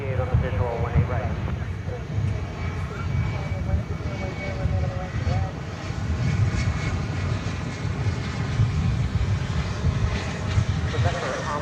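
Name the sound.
Envoy airliner landing on runway 18 right at DFW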